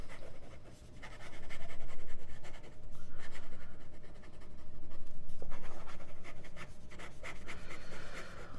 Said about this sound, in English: We'll try some fast writing.